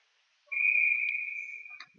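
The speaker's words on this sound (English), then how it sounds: "Whistle blows." A referee's whistle at a junior ice hockey game gives one long, loud, steady blast of about a second and a half that fades at the end over a quiet arena.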